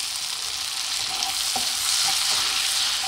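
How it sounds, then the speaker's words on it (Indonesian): Tomatoes fry and soften in hot oil with shrimp paste for a roadside-style sambal, a steady loud sizzle with faint stirring scrapes near the middle. "kita goreng sampai tomatnya juga lunak."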